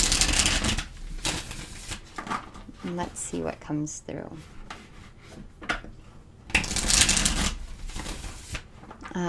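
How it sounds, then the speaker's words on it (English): Tarot cards being shuffled in bursts, a loud riffling rush at the start and again near the end, with a person speaking quietly in between. "I'm going to shuffle the cards a little bit here."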